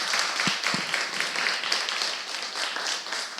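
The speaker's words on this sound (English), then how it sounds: "give applause to Myanmar team." An audience at a Penang Earth Day cleanup meeting applauds the Myanmar team, moderate clapping from a room of people that continues evenly, with a few sharper individual claps near the start.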